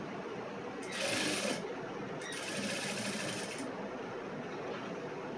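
An electric sewing machine stitches a cross-cut blouse in two quick bursts of rapid needle whirring, the second one longer, over a quiet room background with no voices.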